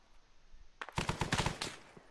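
Burst of rapid gunfire from an Arma 3 Vietnam firefight, a quick stutter of close, loud automatic shots after a near-silent start, firing alone without talk.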